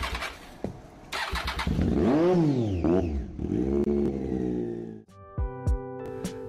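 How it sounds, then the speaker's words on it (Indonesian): Three-cylinder triple motorcycle engine with strong intake roar, revving hard in several rising and falling sweeps, loud and close, then dropping to idle with a few sharp blips near the end. "Motor ini memiliki suara triple yang luar biasa."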